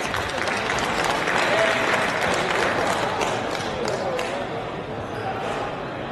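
Sustained applause from a large audience at a fitness expo bench press repetition championship, steady and dense throughout with a slight fade toward the end and some crowd voices mixed in.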